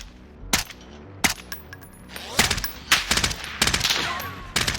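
Type 63 rifle gunfire in Call of Duty: Warzone comes as loud single shots and quick bursts, sharp cracks spaced through the clip, some echoing distant shots, and no clear speech.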